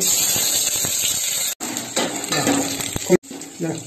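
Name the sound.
onion added to hot oil and fried in a pan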